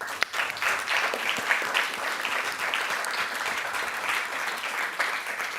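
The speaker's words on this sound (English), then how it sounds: "A big round of applause." Audience applause after a conference panel on Europe's climate transition, a dense, steady round of clapping from a sizable crowd lasting several seconds without talk.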